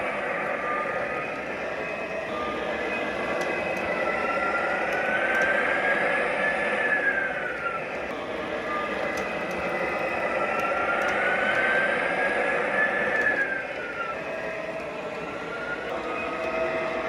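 A model train engine runs forward with a steady mechanical hum and motor whine that rises and falls in two slow sweeps, moderately loud and close, with no talking.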